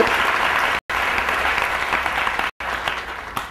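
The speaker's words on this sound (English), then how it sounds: "Let's give a good clap for their arrangement" An audience claps loudly and steadily at a spiritual discourse. The dense applause runs throughout, broken by two very brief silent cuts.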